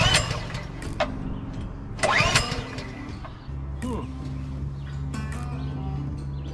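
Someone pull-starts the engine of a Massimo MB200 mini-bike: several rasping cord pulls with mechanical clatter over a low steady hum, close and fairly loud, with no talk.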